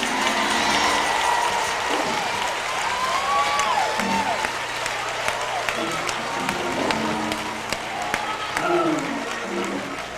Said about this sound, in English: Clap those hands and shout yes.